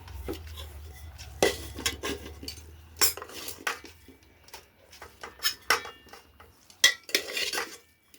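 Metal utensils clink and scrape against dishes in a quiet kitchen as rice is served onto a plate, with intermittent taps and scoops spread unevenly across the moments.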